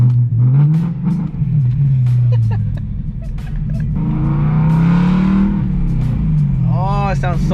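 A BMW E92 M3 with a loud exhaust accelerating hard on a canyon road, its engine rising and falling through gears with a droning roar, close up, while people talk over it excitedly.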